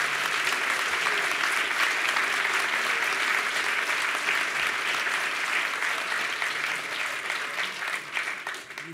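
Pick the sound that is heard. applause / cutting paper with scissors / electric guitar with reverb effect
applause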